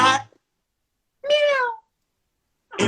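A crowd at a live show imitates a cat's meow in call-and-response: one drawn-out, rising-and-falling vocal meow between brief bursts of a voice at the start and end, with silence in between.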